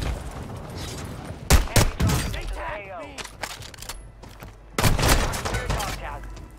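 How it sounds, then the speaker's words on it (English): Bursts of gunfire ring out in Call of Duty Modern Warfare II, with sharp clustered shots in two separate volleys and a voice talking between them. "let me just start shooting"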